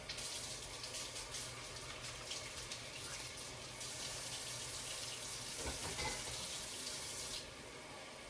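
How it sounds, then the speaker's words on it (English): Water runs into a cup of corn kernels in a steady, fairly quiet pouring stream that continues for several seconds before easing off, with no talking. "But I'm going to add some water."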